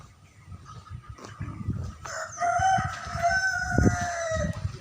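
Chickens at a stall in a busy Indonesian market cluck and murmur under background chatter, then a rooster lets out a loud, drawn-out crow close by, partly under voices and market bustle.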